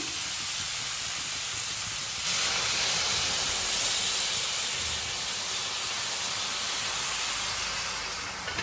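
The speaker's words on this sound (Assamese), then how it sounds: "অলপ ভাজি লোৱাৰ পাছত আমি কম পৰিমাণে অকণমান গৰম পানী দি দিম" Hot water poured into a pan of frying food sets off a broad, steady hissing sizzle that swells louder partway through, then holds and slowly tapers, with no talking.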